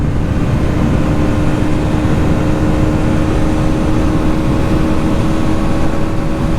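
Bajaj Pulsar NS200 motorcycle from 2024 held at its 10,500 RPM limiter in high gear, a loud, steady, buzzing engine drone that stays flat and unbroken throughout, with no voices.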